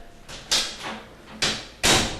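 A bathroom door being opened and closed, several sharp knocks and bumps in uneven succession, close and fairly loud, with quiet rustling between them.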